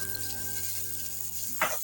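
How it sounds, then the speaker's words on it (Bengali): Pumpkin pieces fry in a pan for a vegetable curry, a soft steady sizzle with a faint hum beneath and a brief louder stir or splash near the end. "আমরা কুমড়োগুলো দিয়ে দেবো কুমড়োগুলো এরকম অল্প করে ভেজে নেবো"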